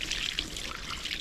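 Water running from a garden hose over a duck carcass being rinsed, a steady close trickle and splash with bright fluctuating spatter, no speech.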